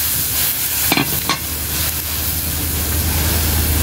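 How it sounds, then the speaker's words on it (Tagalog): Second coconut milk is stirred into vegetables with bitter gourd (ampalaya) sizzling in a pan, provincial home cooking. A steady, close sizzle runs throughout, with a couple of brief scraping stir strokes early on and no talking. "Halo natin yung pangalawang gata"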